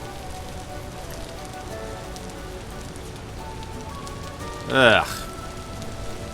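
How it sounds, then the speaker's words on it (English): Steady rain falls in the video game Vintage Story, a continuous soft hiss spread evenly through the scene, with a brief spoken exclamation near the end. "it's raining again."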